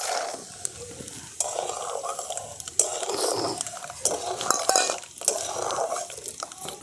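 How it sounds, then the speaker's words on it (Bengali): Peanuts fry and are stirred in a pan, with close, busy scraping and clattering of a utensil against metal over a continuous sizzle. "এই বাদামগুলোকেও আমি ভেজে নেব।"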